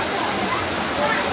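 Dense, steady rush of a waterfall at Guchhupani cave, loud and close with no gaps over the short stretch, a continuous broadband roar of falling water.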